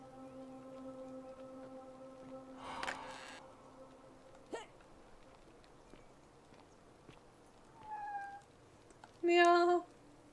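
A cat in the video game The Forgotten City gives several separate meows among quiet game ambience and light footsteps, ending in a louder, clearer meow.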